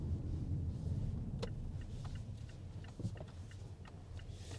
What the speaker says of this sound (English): You hear the engine here a little bit more than you do in the Nissan Rogue